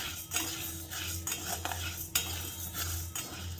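Sago pearls dry-roasting in a pan while being stirred, making repeated close scraping and rattling strokes of a utensil against the pan over a low background hum.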